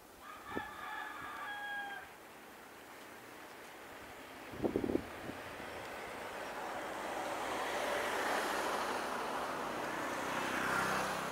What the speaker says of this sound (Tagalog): Ito po ang habagat namin